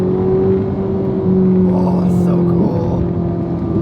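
Ferrari 458 with a naturally aspirated V8 of over 500 horsepower, driven on a bumpy road with no speed limit: a loud, steady engine drone that holds and then shifts pitch, with a passenger briefly speaking over it.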